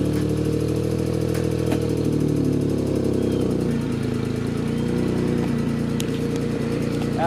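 A 1992 Suzuki Cappuccino with a turbocharged engine runs at a steady, close, droning idle, with a few brief clicks and rattles on top of it.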